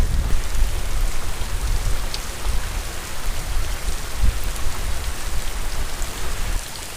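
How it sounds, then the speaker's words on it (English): Heavy Florida rain pours down steadily on water and surroundings during wade fishing, a dense, continuous close-up hiss with scattered drop impacts and no talking. "Wow, it is coming down now. This is a classic Florida rain."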